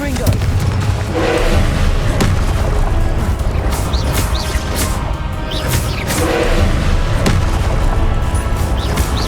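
Booming spell blasts and crashing impacts from Confringo explosions in a Hogwarts Legacy duel, loud and repeated over a dense battle din, with a voice talking between the hits.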